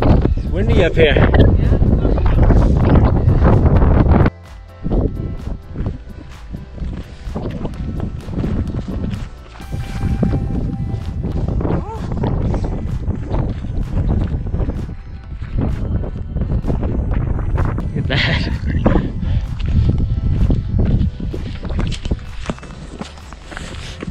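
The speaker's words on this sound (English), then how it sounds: "It's windy up here." Wind gusts buffet the microphone on a high Colorado mountain peak trail, with heavy rumbling bursts over footsteps on rocky ground and people talking intermittently throughout.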